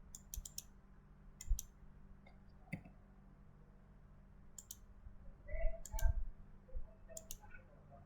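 Sharp computer mouse clicks while dimensioning a curved edge in CAD software, arriving singly and in quick doubles and triples, close and fairly crisp, with soft low handling bumps in between and no talking.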